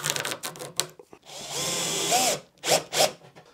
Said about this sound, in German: Eine Schraube reingedreht.